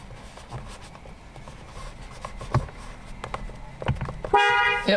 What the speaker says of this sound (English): probably gonna honk the horn, not gonna lie, whenever I push this on there.